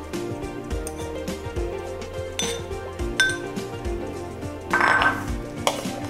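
Utensils clink and scrape against a bowl as ceviche with cilantro and panela cheese is stirred, a steady run of close, light metallic and ceramic knocks with a few brighter clanks.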